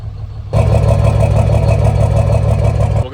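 A truck engine idles with injector number 2 disabled, a loud, close, continuous rumble that kicks in abruptly after a quieter moment and holds a rough, pulsing beat until it drops off at the end.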